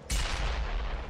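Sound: explosion in video game Dead Island Riptide

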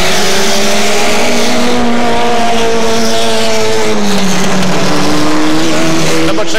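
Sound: hot-rod race cars racing at The Pike

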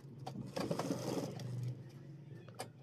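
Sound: sewing machine stitching pant belt

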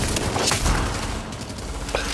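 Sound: gunfire from a video game

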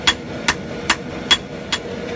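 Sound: hammer forge welding the eye of a Viking axe

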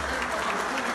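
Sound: audience applause

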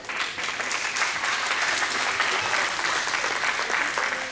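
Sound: audience applause

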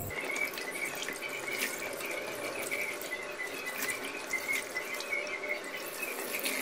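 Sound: washing goat tripe in water

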